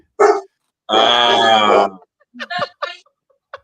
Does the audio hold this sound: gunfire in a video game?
no